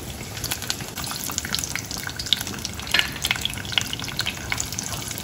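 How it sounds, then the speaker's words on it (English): Garlic added to peanuts frying in hot oil in a pan sizzles steadily, with a dense crackling hiss and occasional sharper pops and stirring scrapes, close and continuous without talk. "Now I'm going to add the garlic"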